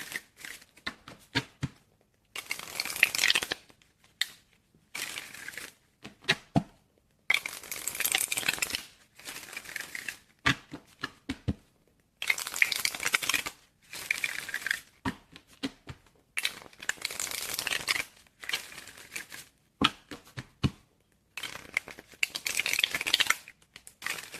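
A tarot card deck being shuffled up close, with repeated bursts of crisp riffling and flapping card noise separated by short quiet pauses, and no talking.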